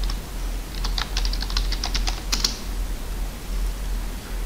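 Keys on a computer keyboard are tapped in a short burst of about a dozen quick, light clicks while a password is entered, over a steady low hum.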